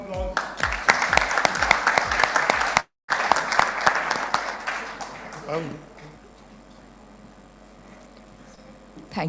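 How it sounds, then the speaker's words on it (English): An audience at a women's leadership awards ceremony claps for an honoree, a loud burst of applause that stops briefly and then fades into quiet room tone. "Once again, ladies and gentlemen, don't forget to applaud for our lister, Divya Karani."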